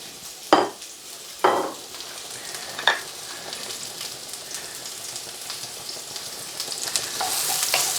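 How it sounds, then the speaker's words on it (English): Roughly chopped onions hit hot oil for a Chinese chicken curry with a few sharp sizzling bursts, then settle into a soft, steady frying crackle that grows louder toward the end. "We're going to pop our roughly chopped onions in first."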